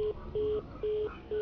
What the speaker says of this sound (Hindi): और फिर फोन कट गया।